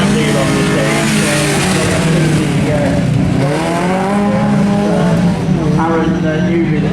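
A rear-wheel-drive rally car driven by two-time Manx Rally champion Aaron Newby runs a rally stage at Race Retro, its engine loud and continuous as it revs and shifts, with tire noise and someone talking over it.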